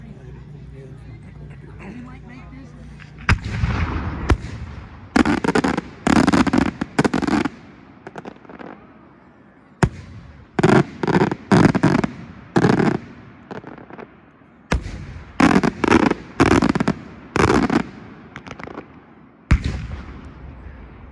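Fireworks at a fireworks festival, with repeated loud bursts and crackling volleys firing in quick clusters separated by short pauses, and crowd voices faintly in the background.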